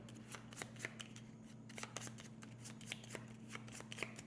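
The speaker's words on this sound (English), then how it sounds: "principal threat cards, shuffle them up" Threat cards being shuffled by hand during a solo board game, with soft riffling snaps and flicks repeating at an uneven pace over a faint steady hum, quiet and close.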